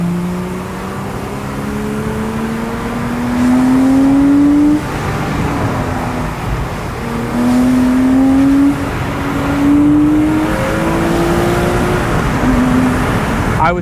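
A stock Porsche 987.2 base Boxster engine accelerates repeatedly, its loud, close flat-six note climbing through the revs, dropping briefly between gear shifts and rising again.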